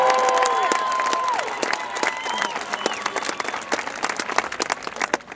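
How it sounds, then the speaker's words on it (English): A high school graduation crowd bursts into loud applause and cheering, dense clapping with whoops and shouts that keeps going strong and turns into sharp, scattered claps toward the end. "Give her a round of applause."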